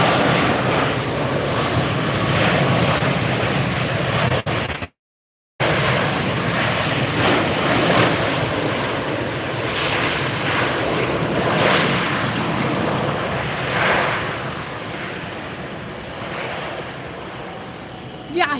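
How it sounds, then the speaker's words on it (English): A Southwest airliner touches down on runway one right at Tampa airport, its engines giving a steady, loud broad roar that continues throughout, broken by one short gap of silence. "already we have the Southwest touching down on one right"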